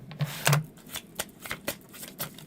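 Tarot cards shuffled by hand in a series of quick riffling bursts and soft slaps, close and fairly quiet, with no talk over them.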